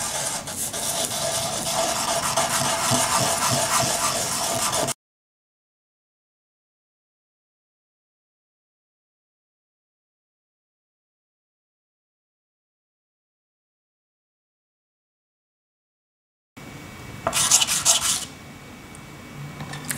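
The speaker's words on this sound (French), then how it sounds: "Et on va poncer." Wet sanding of a small resin sphere by hand, a steady dense rasping scrub for several seconds, then silence, then a shorter burst of rubbing returns near the end; no talk.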